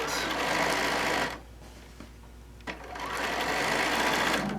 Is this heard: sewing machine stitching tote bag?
yes